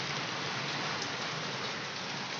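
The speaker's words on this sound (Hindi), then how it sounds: "ये है मतलब एकदम से इमिडिएटली वाली बारिश" Sudden heavy rain pouring down outdoors, a dense, steady hiss of drops on surfaces, loud and unbroken throughout with no voices.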